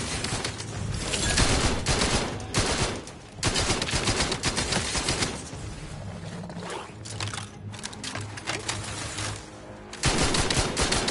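Rapid bursts of automatic gunfire from The Outer Worlds 2, dense and loud for most of the stretch, with short lulls between volleys and a final burst at the end.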